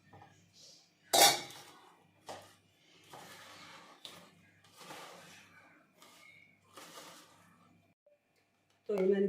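Chopped potato, onion, green chilli, turmeric, salt and spices are stirred in a dish, with scattered clinks and scrapes of a spoon against the bowl and a louder clatter near the end, mixed with quiet talk.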